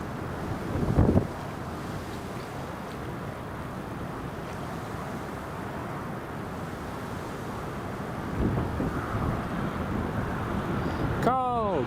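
Strong wind buffets an outdoor microphone at Newcastle Airport during a January storm, a steady loud rushing roar with gusty swells that runs throughout, with a brief louder burst near the start and a short voice at the end.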